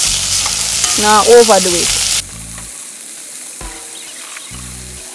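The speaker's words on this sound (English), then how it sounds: "Fry them up so that they preserve the color." String beans frying in a pan give a steady, loud sizzle, with a voice speaking over the start before the sizzling continues alone at a slightly lower level.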